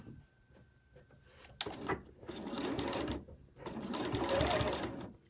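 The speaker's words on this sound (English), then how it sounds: "we're just going to do a few stitches just to hold them" A sewing machine runs in two short bursts of rapid stitching, tacking clipped fabric pieces in place within the seam allowance, close and fairly quiet, with a brief pause between runs.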